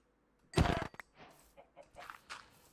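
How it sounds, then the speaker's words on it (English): A chicken in Minecraft gives a loud close cluck followed by a string of softer, short clucks spaced irregularly, with no talk over it. "Chicken."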